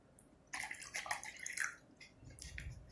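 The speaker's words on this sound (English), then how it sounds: "So we can add little more water here." Water poured from a container into a self-watering planter made from a waste plastic bowl, a soft splashing trickle in short bursts, quiet and close, with no talking.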